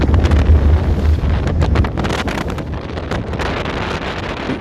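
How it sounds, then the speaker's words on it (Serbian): Strong wind roars steadily across the microphone during sea rowing near the Mljet channel off Dubrovnik, with waves and the wash of water around the boat mixed into the loud, constant buffeting. "Vetrovi su se toliko digli"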